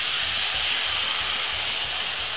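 Beaten egg poured into a hot frying pan of vegetables for a Jamaican sardine-and-egg breakfast, giving a steady, fairly quiet sizzling hiss that holds evenly throughout with no talking.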